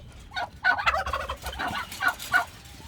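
A turkey gobbles in repeated rapid bursts on a homestead with chickens nearby, the rattling calls fairly close and loud with no talking over them.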